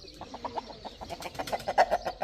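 Chickens cluck in quick, repeated bursts close by, with a rooster's calls mixed in among the flock's chatter.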